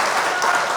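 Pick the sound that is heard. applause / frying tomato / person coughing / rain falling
applause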